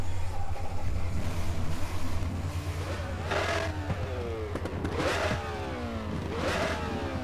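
A racing car engine in RaceRoom Racing Experience cranks and fires up, its loud rising and falling revs sweeping upward in several bursts over a steady low droning hum.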